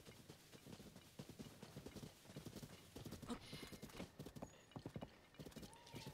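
Rapid clip-clop of hooves trotting steadily close by in The Legend of Zelda: Tears of the Kingdom, with a brief whinny partway through and faint voices underneath.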